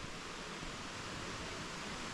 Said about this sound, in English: I can hear the waterfall where we used to bath.